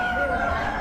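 Steady clucking from Easter Egger chickens at a spring animal auction, the birds audible over a continuous murmur of people talking nearby.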